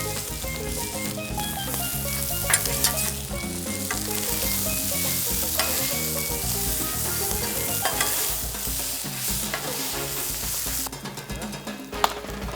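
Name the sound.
meat and vegetables sizzling while being stirred in a pan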